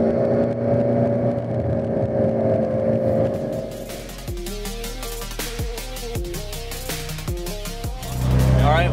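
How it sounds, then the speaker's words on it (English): McLaren sports car on a slalom course at Sonoma Raceway, its loud engine droning, then revving in sharp rising bursts with turbo whine and gear changes, close and forceful. "the turbo spool in this, I mean, this car is so much louder than a 570 GT"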